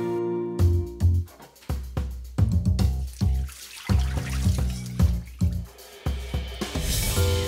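Cooked orzo pasta is drained, its hot water pouring and splashing in uneven gushes and trickles, loud and close, with brief pauses between surges.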